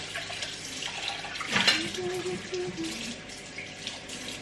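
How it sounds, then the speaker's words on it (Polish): Tap water runs steadily into a kitchen sink while a dish is rinsed, with a brief louder splash partway through. A low hum lies under the steady flow. "Ja przy okazji od razu umyję to naczynie."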